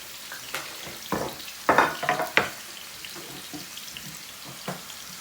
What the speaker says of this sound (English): while the onion is frying